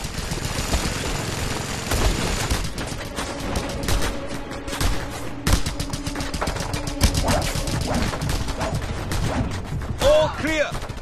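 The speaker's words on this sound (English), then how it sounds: "Mounted gun! Scorpio, take care of it!" A mounted gun in the video game Just Cause 2 fires in repeated rapid bursts, loud and close, mixed with scattered explosions and in-game battle noise.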